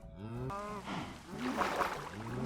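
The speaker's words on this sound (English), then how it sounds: "One of the cows is drowning." Cows in Minecraft moo repeatedly, overlapping long lowing calls with pitch glides, fairly loud and close, one after another with no gaps.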